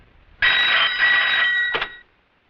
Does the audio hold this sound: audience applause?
no